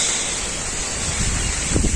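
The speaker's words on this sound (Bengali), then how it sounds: "প্রচন্ড বাতাস" Strong wind rushes and buffets the microphone outdoors beside a village cooking fire, as a constant loud roar with a few low gusty thumps near the end. No one speaks.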